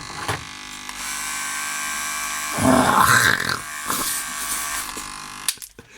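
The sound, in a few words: corded electric hair clipper running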